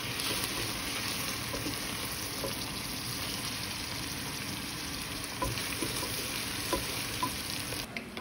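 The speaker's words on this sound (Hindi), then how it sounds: "ये प्याज को मैं अच्छे से गोल्डन ब्राउन कर रही हूँ" Onions frying in oil for a turnip and lamb curry, giving a steady, even sizzle throughout with a few faint clicks near the end and no talking.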